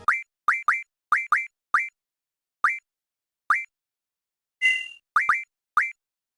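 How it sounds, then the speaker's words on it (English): Short repeated chirping blips from the Final Fantasy VIII menu cursor, a video game sound for scrolling through options, sound about a dozen times at irregular intervals, clean and alone, with one brighter, different chime near the end. "used for scrolling through menu options on various screens"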